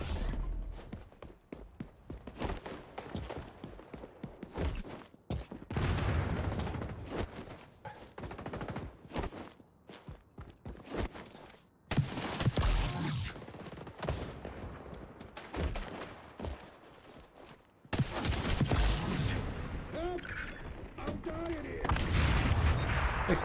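Rapid gunfire bursts and grenade explosions from the online shooter game XDefiant crackle in dense, uneven volleys with sharp booms, broken by brief pauses, with a player's voice talking over parts of the action.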